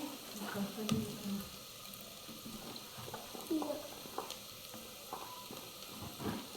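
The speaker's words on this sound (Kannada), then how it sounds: "ಎಣ್ಣೆ ಈರುಳ್ಳಿ ಹ್ಞೂ ಇವಾಗ ತರಕಾರಿ ಹಾಕ್ತಾ ಇರೋದು" Onion and vegetables frying in oil for pulao give a faint, soft sizzle with occasional light clinks and stirring taps, quiet throughout with only a trace of voices.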